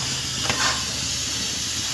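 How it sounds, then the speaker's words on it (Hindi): A pressure cooker whistles steadily with jackfruit curry cooking inside, giving a continuous loud hiss of escaping steam that swells briefly near the start, close and alone with no voices. "सब्जी में सीटी आ रही है"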